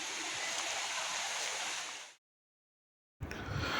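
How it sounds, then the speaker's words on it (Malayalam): Water pours out of Peringalkuthu dam into the waterfall below, a dense, steady roar that stops dead for about a second and then surges back just as loud. "വെള്ളം പുറത്തേക്ക് പോകുന്നതാണ് നമ്മൾ കാണുന്നത്"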